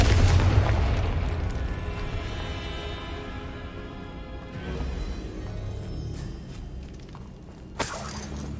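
Confringo spell explosion in Hogwarts Legacy: a loud crashing boom with shattering debris at the start, decaying into a long rumbling tail with scattered impacts and a sharp crack near the end, no talk.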